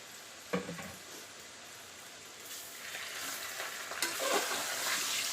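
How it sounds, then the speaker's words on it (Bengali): Pieces of mutton frying with potatoes in a pan hiss and sizzle, with a sharp burst as they hit the oil and the sizzle swelling louder toward the end. "এবার এই আলুর সাথে মাটনটাকে আমি একটু ভাজবো"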